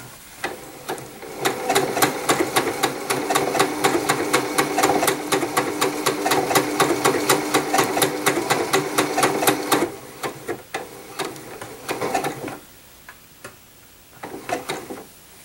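A Janome sewing machine stitches a blind hem in a steady, rapid mechanical clatter of needle strokes that runs for about ten seconds, then breaks into slower, intermittent bursts separated by pauses.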